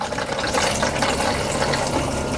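Water rushes steadily through an RV toilet as antifreeze is flushed in to protect the plumbing for winter, a continuous close hiss and gush with no voices.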